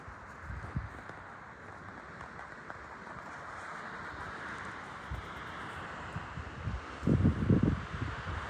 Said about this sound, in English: Wind is blowing up here.